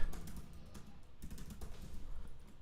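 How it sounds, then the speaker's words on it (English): A password is typed on a computer keyboard, producing a quiet run of quick, uneven key clicks close by with no talking. "So let's type a password"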